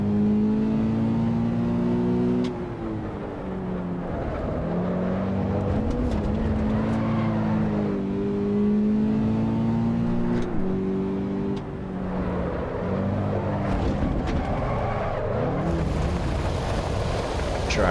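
A 200 horsepower Toyota race car in Assetto Corsa EVO drones loudly and steadily, its engine pitch rising and falling through gear changes and throttle lifts across a lap, with no talking.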